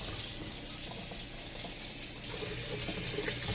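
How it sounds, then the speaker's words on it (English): Cold tap water runs steadily into a kitchen sink, rinsing freshly cooked al dente pasta, a continuous close splashing rush with no voices. "And you're rinsing it with cold water."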